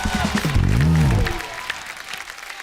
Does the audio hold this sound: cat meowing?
no